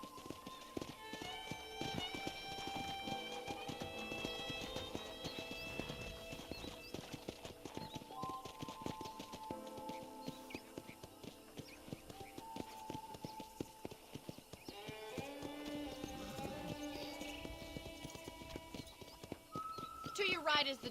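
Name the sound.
horse hooves clip-clopping while riding, video game Red Dead Redemption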